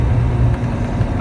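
A Callaway Rabbit car engine runs loud and close in third gear, a steady low drone filling the cabin, with no clear rise in pitch across the brief moment.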